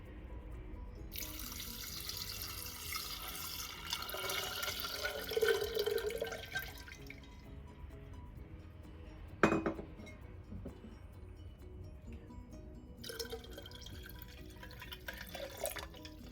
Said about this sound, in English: I'm gonna go ahead and pour my 7 cups of water